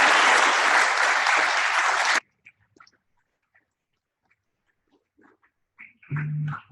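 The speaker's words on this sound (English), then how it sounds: "please give a round of applause for coming on" Audience applause for a Pro Football Hall of Fame enshrinee visiting a class, a loud dense burst of clapping lasting about two seconds that cuts off sharply, followed by near silence, a few faint noises and a brief voice.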